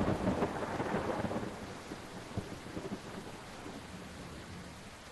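Rain and rumbling thunder in the Bus Simulator Indonesia game: a low thunder roll swells at the start, then fades under a steady hiss of rainfall pattering on surfaces.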